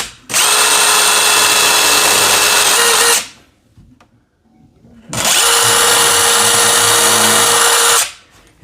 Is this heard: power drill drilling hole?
yes